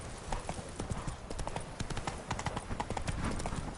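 Rapid clip-clop of horse hooves galloping in Witcher 3: Blood and Wine, a steady drumming rhythm of close, crisp hoofbeats running throughout without pause.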